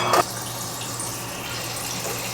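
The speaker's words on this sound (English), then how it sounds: "Probably should have put water in here before I opened it." Water pours steadily into a bottle in a continuous, even gush, close and moderately loud, with a brief splash at the start and no talking.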